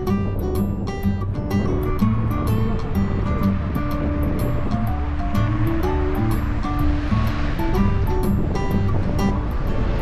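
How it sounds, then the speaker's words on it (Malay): Strong wind roars across a hilltop by Erhai Lake in Yunnan, a loud, continuous rushing blast buffeting the microphone, with faint tonal sounds underneath. "Di atas bukit ini angin agak kuat juga."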